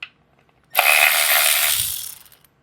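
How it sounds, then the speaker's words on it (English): A T27 Torx screw being backed out of a motorcycle derby cover, a single close, bright mechanical ratcheting whir lasting about a second and a half before tapering off into quiet. "this takes a T27 torque screw, is going to take this derby cover off"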